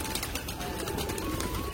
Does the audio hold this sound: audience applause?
no